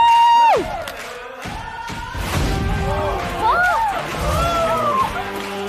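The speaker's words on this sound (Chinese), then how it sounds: "下面让我们掌声欢迎本季全部实习生及代教入" An audience claps and cheers to welcome a season's interns and their mentors onstage at a Chinese workplace reality show finale. The applause swells loud and steady beneath bright stage music for several seconds.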